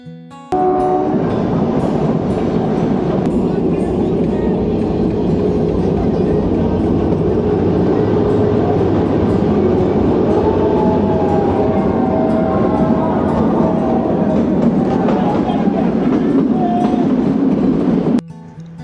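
A train on the Shimla mountain railway runs steadily and loudly, with continuous rumble and wheel noise plus rising whines and squeals as it rounds curves, filling nearly the whole stretch before cutting off at the end.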